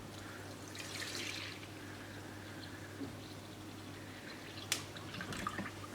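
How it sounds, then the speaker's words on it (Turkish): A liter of milk is poured into a pudding mixture in a pot, a soft continuous liquid trickle with a low background hum and an occasional small splash or clink, near and alone. "Şimdi bu karışma tam 1 litre sütümü ekliyorum."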